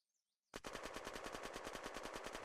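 The Zubeknakov automatic gun in a video game fires a sustained, rapid burst after a brief quiet start, loud and close, with tightly spaced evenly repeating shots and no talking.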